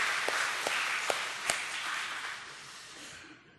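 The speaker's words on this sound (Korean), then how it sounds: "우리 박수 한 번만 해드릴까요?" A church congregation applauds during a Sunday sermon service, a steady wash of many hands clapping at moderate distance with a few sharper individual claps standing out, fading toward the end; no talking.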